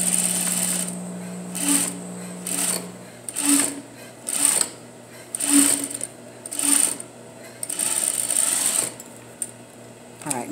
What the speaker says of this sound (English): I'm gonna sew that quarter